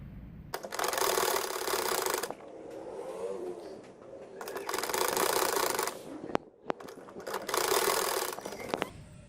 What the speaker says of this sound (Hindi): अब मैं यहाँ की सिलाई करने लगी हूँ सेंटर की।